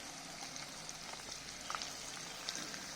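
Potatoes frying in oil make a steady, soft crackling sizzle throughout, with a few faint pops.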